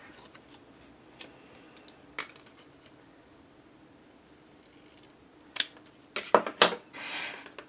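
Scissors cutting paper for a handmade mini album, a few sparse snips early on, then a quick burst of close, crisp cuts near the end.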